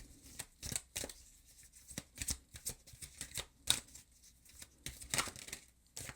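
Soft, close riffle-and-bridge card shuffling, repeated papery flutters and snaps at an irregular pace, fairly quiet with no talking.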